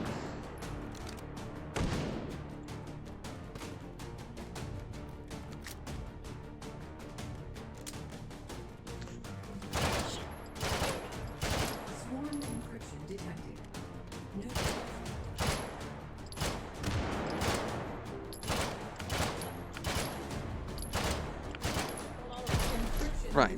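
Rapid bursts of gunfire from a game firearm with a purple muzzle flash crack through dense, busy sound, with several loud clusters of shots in the second half and a voice talking over parts of it.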